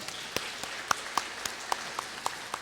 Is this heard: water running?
no